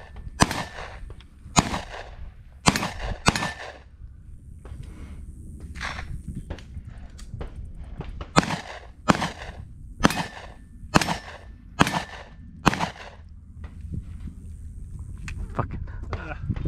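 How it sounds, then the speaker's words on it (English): Pistol shots crack at an outdoor shooting range, a dozen or so sharp loud reports in irregular bursts and pairs with brief gaps between them. "It's hard shooting canted like that"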